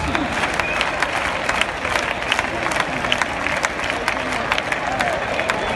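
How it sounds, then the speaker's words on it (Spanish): At a bull-leaping recortes contest in Valencia, a crowd claps in quick rhythmic palmas. Many sharp claps ring over a busy arena murmur while a voice talks throughout. "que pide esas palmas"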